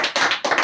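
Brief burst of classroom applause for a student who wrote a chemistry equation on the board: a few quick, close rounds of hand clapping, fairly loud, with no talking over it.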